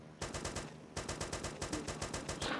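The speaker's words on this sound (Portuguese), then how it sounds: "Mete tiro aos caras lá embaixo." Rapid automatic gunfire from the ARMA 2 video game aimed at enemies below, two fast bursts of evenly spaced shots with a brief gap between them, fairly quiet overall and with no talking.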